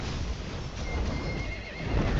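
A horse whinnies amid clip-clopping hooves in the chaotic soundscape of a video game battle, loud and dense with no talk over it.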